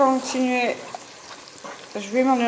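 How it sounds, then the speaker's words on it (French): Spices, salt, black pepper, turmeric and red pepper frying together in a pan make a low crackling sizzle beneath a person talking, the frying noise faint and steady between phrases. "mélanger et continuer à les faire revenir ensemble environ 10 minutes"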